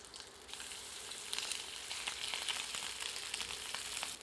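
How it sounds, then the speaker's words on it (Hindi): Chicken grilling in hot oil in a pan, a steady bright sizzle with crackling pops, fairly quiet and continuous, no voices. "अब चिकन को इस तेल में ग्रिल करते हैं।"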